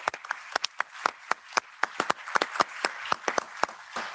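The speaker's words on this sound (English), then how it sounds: "they deserve a big round of applause even from the beginning for their activity" Scattered applause from a small audience at a skills and competitiveness debate, distinct individual claps at an uneven rhythm, fairly quiet and a little distant.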